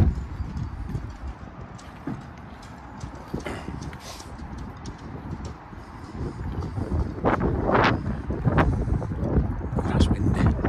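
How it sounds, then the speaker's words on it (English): Gusts of wind buffet the microphone outdoors at a motorhome lot in Newark, producing loud low rumbling bursts that swell and fade irregularly, with someone talking underneath. "That's windy."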